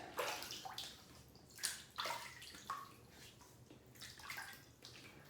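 Water splashes and trickles as a shaving face is wetted, giving bursts of running, splashing water that come and go unevenly, close and moderately quiet, with no talk.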